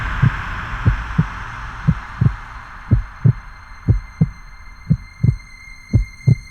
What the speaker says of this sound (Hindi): आपकी दिल की धड़कन हम सिर्फ महसूस ही नहीं बल्कि सुन भी सकते हैं